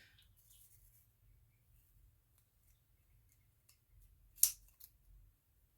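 A single sharp, close snip of scissors trims spacer bead material on a tabletop, a brief click standing out after several seconds of near silence.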